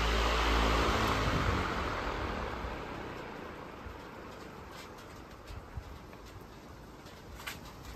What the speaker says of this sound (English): spin down on this thing is absolutely fantastic